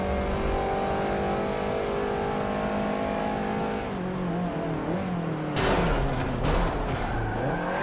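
In Forza Motorsport 7, race car engines, among them an RX-8 with a 1.3 liter Wankel, rev hard and continuously, with pitch sweeps through gear changes and rising then falling tones as cars pass close by.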